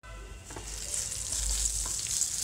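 Mustard seeds, cumin, chana dal and urad dal hit hot oil for tempering tomato chutney, producing a steady, close crackling sizzle with faint stirring, no talk over it.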